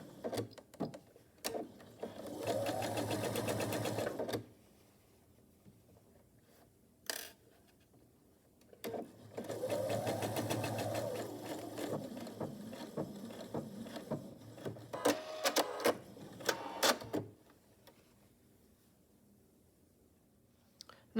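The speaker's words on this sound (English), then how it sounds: "I'll take it to the machine and stitch straight down this line" Sewing machine stitching down quilt binding on a quillow, two sustained runs of steady whirring separated by pauses and handling clicks, close and fairly quiet.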